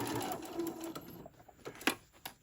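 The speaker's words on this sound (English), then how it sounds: "Then you keep sewing." Sewing machine stitching a quilted zipper wallet, a fast mechanical whir running close and steady before easing off into a few brief clicks and taps near the end.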